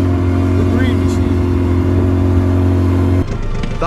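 A Johnson outboard motor on a small inflatable boat runs at a steady, loud hum with strong low tones, then cuts off abruptly near the end; a voice is briefly heard.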